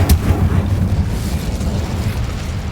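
A fire spell bursts in Hogwarts Legacy, opening with a sharp broadband whoosh and blast, then a rumbling low roar that holds steady through the rest of the moment, loud and close.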